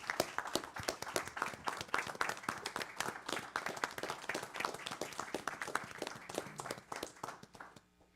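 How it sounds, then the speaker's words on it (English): A small group at a county board meeting claps, sharp individual hand claps heard distinctly in a quick uneven rhythm, fairly faint and distant, tapering off at the very end. "I just want to give them a round of applause."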